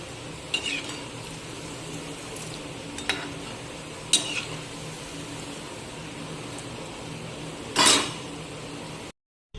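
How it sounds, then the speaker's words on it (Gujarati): A second batch of sabudana vada frying in a pan of oil gives a steady low sizzle, broken by a few sharp clinks of a utensil against the pan, one louder scrape near the end. "હવે એ જ રીતે આપણે અહીંયા બીજો પેચ પણ તળાવવા રાખી દીધો છે"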